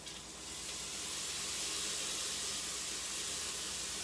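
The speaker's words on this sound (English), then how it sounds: "And you can hear that sizzle." Lemon juice hits a hot pan to deglaze it, setting off a broad, steady hissing sizzle that swells quickly and holds, with no talking.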